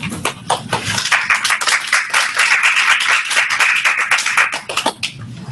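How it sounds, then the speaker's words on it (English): Audience applause breaks out early at a Global Digital Library demonstration event, a dense burst of many hands clapping for several seconds, fairly close and steady before tapering slightly at the end. "Goodness, an applause so early"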